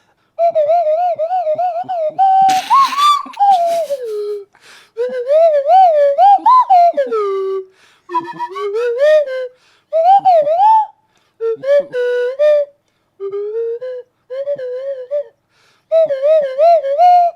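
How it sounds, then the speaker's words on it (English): A slide whistle plays a melody in phrases, its pitch gliding up and down with swoops and pauses between lines, loud and close. "going to render some indie classics on the slide whistle"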